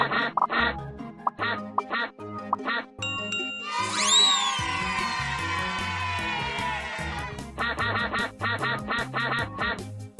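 Cartoon ducks quacking in a children's animation, a long run of repeated quacks that crowd together into a loud, sustained burst in the middle, mixed with bright chiming jingles.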